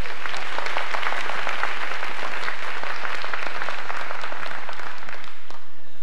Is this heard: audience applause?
yes